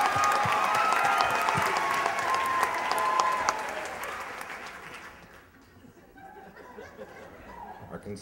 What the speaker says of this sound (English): I can still hear a few of you applauding.